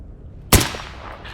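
A single sharp gunshot cracks at a fence in Stalker Gamma, loud and close, its short tail ringing away over quiet ambient background.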